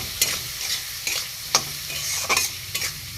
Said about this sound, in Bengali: লঙ্কা গুঁড়ো, হলুদ গুঁড়ো, জিরে ধনে গুঁড়ো বাটা, নুন দিয়ে একবার কষিয়ে নেব।